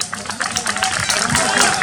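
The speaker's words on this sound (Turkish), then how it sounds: "Sayın Muhammed Oğuz alkışlarla" An audience at a traditional picnic festival claps steadily to welcome a new association president, a dense, fairly loud patter of many hands with crowd murmur beneath.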